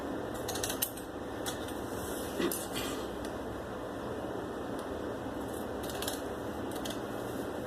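Scissors snip through salwar fabric in a few short, crisp bursts of close cutting over a steady quiet background hum, with no talk.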